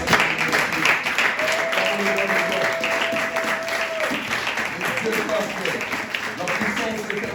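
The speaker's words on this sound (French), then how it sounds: "Acclamons encore le Seigneur" A church congregation applauding and cheering in praise during a French-language worship service, a steady wash of clapping throughout, with voices in the crowd and a speaker talking over it.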